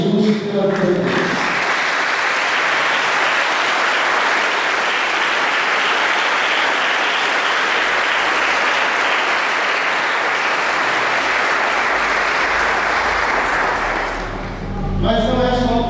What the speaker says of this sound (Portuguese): Eu queria que nós dessemos uma salva de palmas para Jesus pela vida.